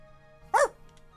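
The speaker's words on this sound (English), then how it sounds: "Let's not forget dogs!" A single short dog bark from the video game Tales of Symphonia, sharp and clear over a faint steady game background hum.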